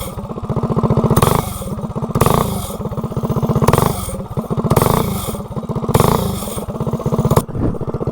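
A $17 mini bike engine with a badly slipping, sparking clutch drones loudly and close, its revs surging and sagging in repeated waves of roughly a second each, with no talking.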